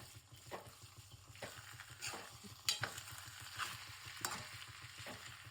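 Masala rice with lemon juice is stirred in a hot pan, the spoon scraping and tapping the pan every second or so over a steady quiet sizzle, with no talk.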